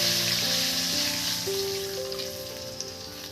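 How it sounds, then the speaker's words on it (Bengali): Water hits a hot pan of mustard hilsa (shorshe ilish) with Kashmiri chilli, setting off a loud, steady hiss and sizzle with a low tonal hum underneath, fading slightly toward the end. "জল দিয়ে দিচ্ছি"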